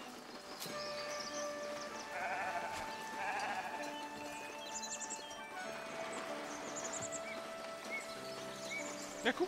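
Sheep bleating in the farming game Foundation, several scattered calls over a steady ambient bed with occasional soft hoof-like clops and chimes, moderately loud with no talk.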